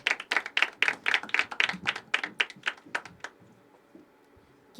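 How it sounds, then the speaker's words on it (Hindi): A short burst of crowd clapping, strong at first and then thinning out to a few scattered claps before fading to quiet. "एक बार जोरदार तालियों से स्वागत करते हैं"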